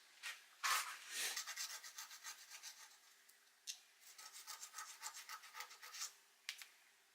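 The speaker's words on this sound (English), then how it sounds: "Do need to file that down where it's kind of sharp." Metal file rasping a sharp edge on a DIY LED camera ring light part, a run of quick scraping strokes, close and fairly quiet, pausing once midway, with no talk.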